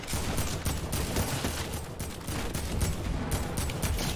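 Rapid bursts of Fortnite gunfire crackle densely and continuously, loud and close, with no pauses throughout.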